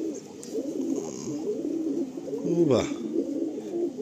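A pair of green giribaz pigeons coo softly and continuously at close range, with a brief sharper sound near the end. A person speaks briefly over them.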